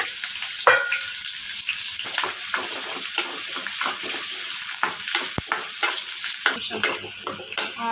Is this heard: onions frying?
yes